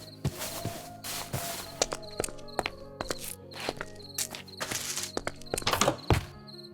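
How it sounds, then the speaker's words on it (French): Footsteps in the video game From the Fog: a steady run of dull thunks and taps over faint background music, clear and fairly close, with no talk over them. "Et j'entends des bruits de pas."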